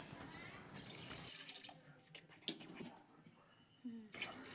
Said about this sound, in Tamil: ஒன்றரை கப் அரிசிக்கு மூணு கப் நான் தண்ணி சேர்த்துக்கிறேன்